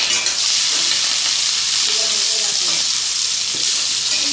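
Onion frying in hot oil with cumin and curry leaves, a loud continuous sizzle with occasional stirring scrapes, no voices.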